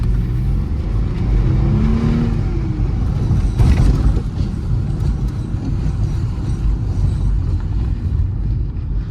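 A Mercedes E320 accelerates hard toward 6000 rpm, its engine note rising in a close, loud, continuous roar from inside the car with no talk over it.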